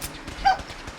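Dogs in the Fallout 4 game world near a police station bark and yip in a short, close burst, with a brief sharper yelp standing out over low game ambience.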